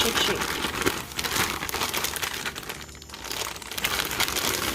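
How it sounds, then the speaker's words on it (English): Fish shaken inside a closed bag of flour gives a busy, continuous crinkling and rustling of plastic, close up and fairly quiet, with brief lulls between bursts of shaking. "Put the fish inside the bag. Close it. Move this aside. And shake."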